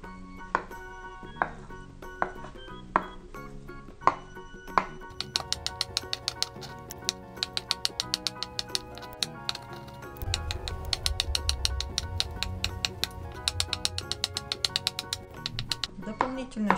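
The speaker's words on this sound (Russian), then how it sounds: "Яйца нарезаем мелкими кубиками." A knife chops boiled eggs into small cubes, with quick, evenly spaced cuts that speed into a rapid steady rhythm over background music.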